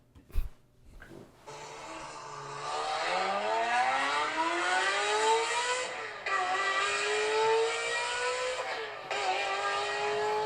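A Honda S2000 fitted with a Kreiseg exhaust drives along a Japanese road, its engine note climbing steadily in pitch through a sustained rev with brief dips at shifts, loud and close with no talking.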